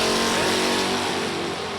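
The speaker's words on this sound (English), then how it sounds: "Chevelle is moving." A Chevelle drag car with a 498 cubic inch big block launches at a hot rod reunion drag race, a loud, sustained engine roar that stays close and constant for a moment.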